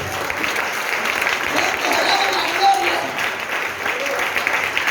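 A church congregation breaks into loud, sustained applause for the Lord during an anniversary service, a dense roar of many hands with voices mixed in, steady throughout.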